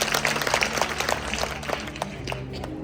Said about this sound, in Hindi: तालियां बजाओ जोरदार इसके लिए।